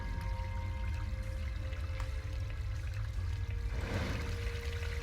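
Water pours and trickles in a Harry Potter and the Prisoner of Azkaban PS2 game scene, a steady liquid splash over a continuous low game hum, growing slightly louder near the end.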